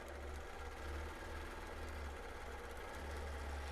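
A sewing machine runs steadily, lock-stitching a quilt within the seam allowance using fine thread and a short stitch length, a low continuous hum heard alone and fairly quiet.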